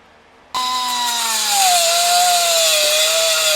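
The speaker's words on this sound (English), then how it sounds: "you saw we were grinding the custom washers here" A grinder works on custom washers for the Edelbrock intake on a '65 Mustang GT. It starts abruptly and keeps up a loud, steady, harsh whine whose pitch sags slightly as the grinding loads it.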